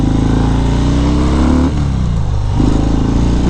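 A 2019 Harley-Davidson FXDR 114 motorcycle engine rumbles loudly and continuously during a ride, with a deep, steady throb and a short dip and recovery in revs partway through.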